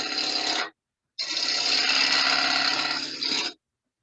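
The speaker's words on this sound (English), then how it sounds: "Cutting with the bevel, tool handle down, raising it up as I get to the top." Wood turning on a lathe: a chisel rides its bevel across a spinning lid for a jewelry caddy, handle lowered then raised. A close, steady rasping cut in two bursts, a short pass then a longer one after a brief pause.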